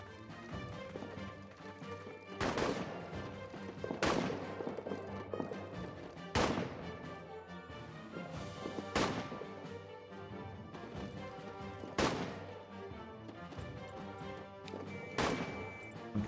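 Gunfire in the World War I trench video game All Quiet in the Trenches, with sharp, loud rifle cracks about every two seconds over a constant low battlefield rumble.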